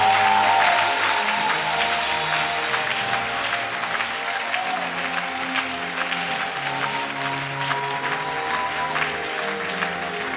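Congregation at a church service applauding, a dense, steady wash of clapping from many hands that holds strong throughout, with voices faintly mixed in.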